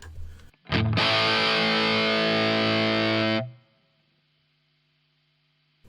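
A guitar played through a Two Notes Torpedo Studio with harsh overdriven distortion: one loud, buzzy sustained chord rings for about three seconds, then cuts off abruptly into near silence.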